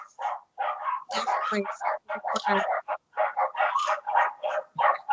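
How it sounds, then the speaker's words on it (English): Dogs bark and yip repeatedly in the background, blending with a steady stream of overlapping conversation that carries on throughout. "I can hear dogs barking out behind."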